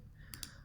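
Two quick, faint clicks of a computer mouse close together, made while selecting atoms and adding a bond in molecular modelling software, with a low background hum and no speech.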